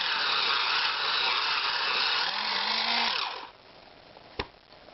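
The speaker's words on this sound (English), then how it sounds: "So I'm just going to use my electric pencil sharpener to do that quickly." An electric pencil sharpener grinds a brown coloured pencil to a sharp tip at a drawing desk. A loud, steady buzzing whine runs for about three seconds, then cuts off, followed by a soft click.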